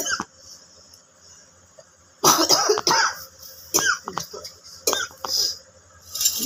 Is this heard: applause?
no